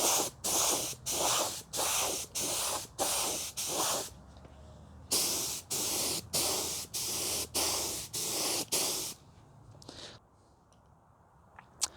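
An automotive HVLP spray gun spraying paint makes rapid hissing bursts in quick rhythmic pulses, two runs of them separated by a brief pause, close and loud, ending in a few quieter puffs.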